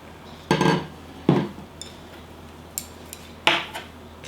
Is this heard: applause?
no